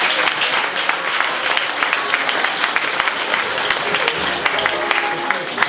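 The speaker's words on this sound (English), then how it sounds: "so give them a big round of applause" An audience at a tribute concert by young traditional musicians and tutors at a summer school in South Sligo claps in sustained, dense applause. The clapping stays loud and even throughout, with no pauses.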